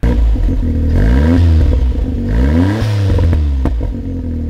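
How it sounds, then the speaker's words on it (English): A small turbocharged kei car engine revs repeatedly through a loud aftermarket exhaust, rising and falling in pitch with crackles, pops and whistles between bursts. "Aftermarket exhaust, which gives you all the cracks, pops, and whistles you want."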